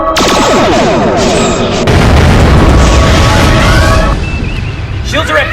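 Photon torpedo explosions striking a starship in a space battle, a loud close boom and burst of rumbling blasts with crackling debris, while voices talk over the chaos.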